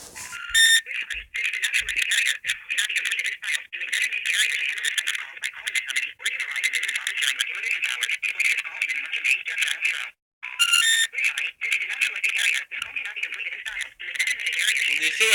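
A telephone call plays a strange modified automated message, a thin, tinny, choppy electronic voice with beeps and tones broken by brief gaps, filling the whole stretch.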